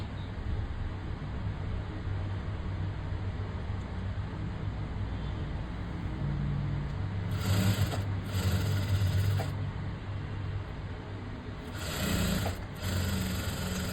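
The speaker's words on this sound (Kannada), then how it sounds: "ಸ್ಟಿಚ್ ಹಾಕೊಂಡ್ಬನ್ನಿ ಫಸ್ಟು ಲಾಕ್ ಮಾಡಿ" A sewing machine runs steadily, stitching piping on a blouse, with a constant close mechanical whir and brief louder spurts of faster stitching near the end.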